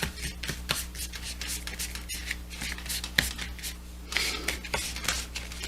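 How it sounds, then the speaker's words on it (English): Lover's Oracle cards slid and spread out by hand across a surface, soft papery rubs and swishes with a few sharper card snaps, close and quiet over a steady low hum. "I'm just going to spread them out and pull one."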